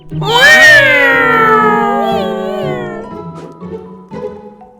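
A loud, drawn-out voiced meow from a cartoon cat opens the scene in a Ukrainian children's animation about a cat baking a birthday cake, followed by shorter, fainter meows and mews.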